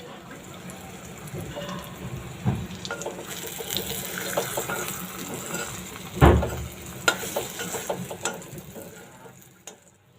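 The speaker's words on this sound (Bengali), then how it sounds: "আর এদিকে কচুর চাক ভাজি করা হচ্ছে" Slices of taro (kochu) sizzle and crackle as they fry in a pan, a steady close hiss with scattered stirring clatter and one sharper clank partway through.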